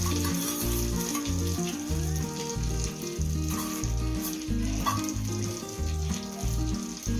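Fried raisins going into wheat rava kesari, a bright steady sizzle sitting over rhythmic background music.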